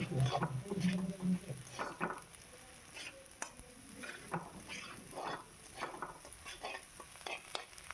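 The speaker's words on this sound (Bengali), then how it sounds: "এই যে দেখেন চালটা লাল লাল হয়ে গেছে বাটারের সাথে, কি সুন্দর চালটা ভাজা হয়ে গেছে।" Rice frying in butter in a pan, with a fairly soft, steady sizzle broken by repeated scraping stirs at an uneven rhythm, close by.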